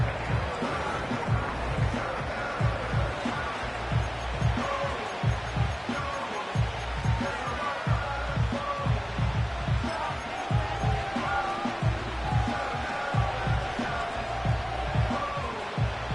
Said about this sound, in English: This crowd into it now as we get to third down.